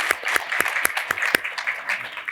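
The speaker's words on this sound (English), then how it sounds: "Round of applause." Audience applause follows a panel discussion on advancing the green economy, a brief burst of many hands clapping with sharp individual claps standing out against the steady patter of the crowd.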